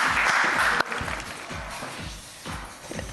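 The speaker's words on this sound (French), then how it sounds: "Donc on applaudit très très fort Gwen." Studio audience applause on a French TV talent show for a contestant named Gwen, a dense burst of clapping that cuts off sharply, leaving quieter scattered sounds and low thumps.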